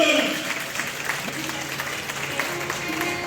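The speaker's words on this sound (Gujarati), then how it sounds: "એકવાર હાથ ઉપર કરી જોરદાર તાળી" A crowd at a religious storytelling gathering in a temple claps steadily for a few seconds, a dense patter of applause that carries on to the end.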